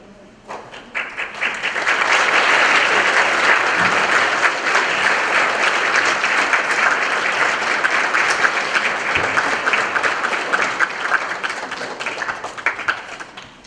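An audience gives a round of applause, dense clapping that swells quickly, holds loud and steady for about ten seconds, then thins out.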